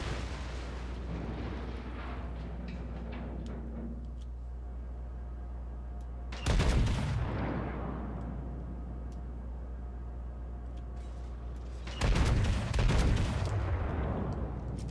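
Battleship main guns firing in World of Warships, two heavy booming salvos a few seconds apart, each a loud low blast with a long rumbling decay over a constant engine drone.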